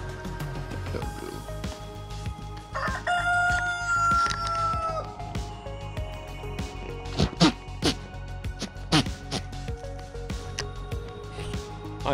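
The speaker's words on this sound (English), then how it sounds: "Our noisy chickens." A rooster crows loudly nearby amid a flock of clucking, squawking chickens, with scattered sharp calls and background yard noise.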